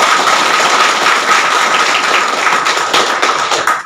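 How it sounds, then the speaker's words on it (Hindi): An audience at a network marketing seminar claps steadily, a close and loud burst of applause lasting a few seconds that tails off at the end. "एक बार चाहेंगे उस जोश को दिखाने के लिए सारे लोग शानदार ताली बजाएं।"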